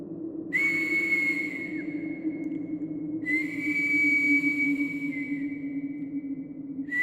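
The whistle of El Silbón, a legendary ghost, rendered as two long, high, eerie whistled tones over a low steady drone, the second one longer and slightly rising, with no voices.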